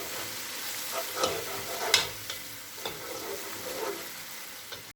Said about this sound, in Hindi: अब इसमें अदरक का पेस्ट डालेंगे, मिक्स कर लेंगे अच्छे से।